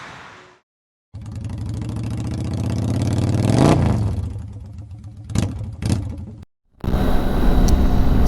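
A BMW R1250 GS motorcycle engine revs up and rides off close by, its drone climbing and falling, followed by short throttle blips and a cut, then renewed wind and engine noise.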